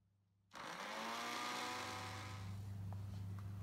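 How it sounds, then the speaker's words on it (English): A blender whirs to life after a moment of quiet and runs loud and steady, pureeing pineapple, its motor grinding continuously until the end. "Then switch on the blender."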